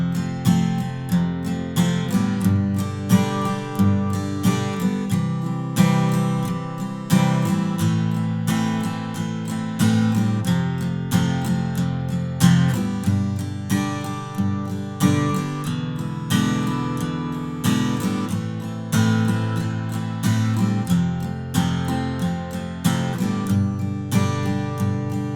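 An acoustic guitar strums the simple chorus chords of a Christmas song in a steady eighth-note pattern, close and clear, repeating through the progression with no voice over it.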